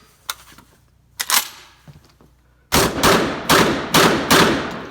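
AR12 shotgun fired at an outdoor gun range, a few scattered distant shots followed by a rapid string of five loud, close blasts in quick succession.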